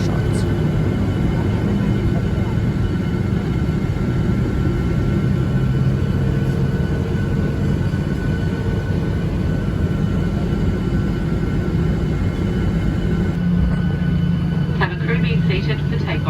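A Virgin Australia Boeing 737-800 taxis toward the runway, its engines giving a loud, steady cabin rumble and whine throughout, heard from inside with no clear talk.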